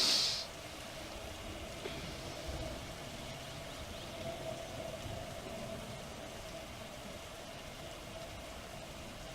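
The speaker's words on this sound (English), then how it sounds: "I do apologise if that rain is so loud" Steady, even hiss of heavy rain falling without pause in the video game My Summer Car, a constant wash of noise with no talking over it.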